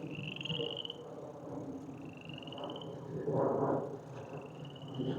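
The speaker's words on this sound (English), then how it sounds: "You hear those frogs?" Frogs calling outdoors at a pond, high trilling croaks repeating at intervals over a steady background chorus, fairly faint and distant.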